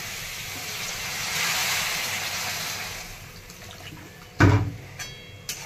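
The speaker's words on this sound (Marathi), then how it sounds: "तर आता या भाजीमध्ये ना पाणी ओतत आहे." Water poured into a vegetable curry of dal and potato cooking with black masala, a broad hissing wash that swells and fades, then a sharp splash and a couple of brief clinks near the end.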